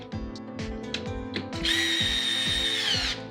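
A cordless power drill drives screws into a scooter weather shield: several short stuttering bursts of whirring, then one longer, higher-pitched sustained spin, close and loud with no talking.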